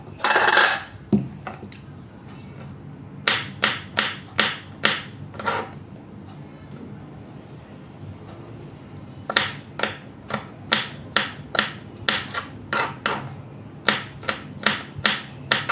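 Garlic cloves being crushed on a kitchen surface before peeling, a series of sharp, close knocks coming in quick bursts separated by brief pauses.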